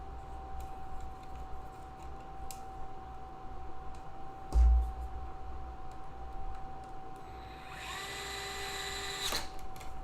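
A power tool drives screws into a home server case, a faint steady whir running under room noise with a few clicks and a louder whining burst near the end.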